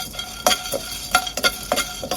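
Whole cardamom pods, black pepper, cloves and cinnamon frying in a pan for a mutton curry and polao, with soft sizzling and several sharp spoon-and-pan stirring clacks at uneven intervals, no voices.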